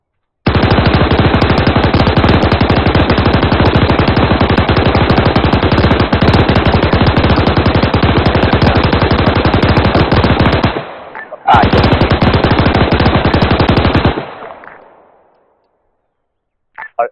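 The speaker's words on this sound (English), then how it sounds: "That's rounds coming past them, I think." Sustained machine gun fire in a military video game, loud, rapid and continuous bursts of rounds for about ten seconds, a brief pause, then another long burst fading out, with no voices.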